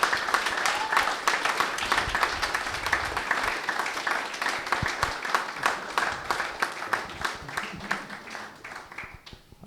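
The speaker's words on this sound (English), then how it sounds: "please give a round of applause for Tunde Onakoya." An audience applauds steadily for several seconds, a dense clatter of many hands that gradually thins and fades out.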